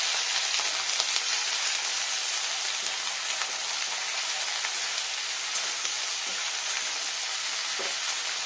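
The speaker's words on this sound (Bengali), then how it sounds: "এখানে এটা ভাজা করবো।" Potatoes and eggplant, two large eggplants and four potatoes, frying in a pan for a poppy-seed dish with bathua greens, giving a dense continuous sizzle with crackling spatter, close and steady throughout without talk.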